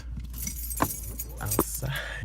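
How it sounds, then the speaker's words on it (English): Car keys jangle and clink in a couple of short bursts inside a parked car on a hot day, close by, with a person talking over them. "Let me turn on the car because I'm just sitting here and it's hot"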